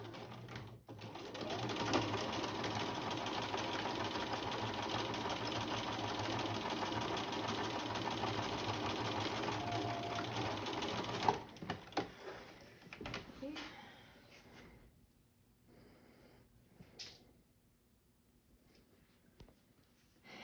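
A sewing machine stitches a gathering seam at a 5/8 allowance with backstitching, running steadily and close for about ten seconds, then stops, leaving scattered handling clicks and faint room noise.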